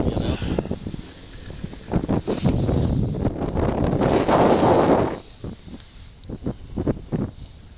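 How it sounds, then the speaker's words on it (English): Cold outdoor wind buffets the microphone in loud, rushing gusts that swell and ease over several seconds, dropping off toward the end, with a voice faintly present beneath the roar. "Actually, the wind seems to have backed off a little bit."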